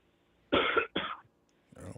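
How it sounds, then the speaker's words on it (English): A man coughs twice in quick succession close to the microphone, sharp loud bursts followed by a quieter rough throat sound a moment later. "Just a little cough."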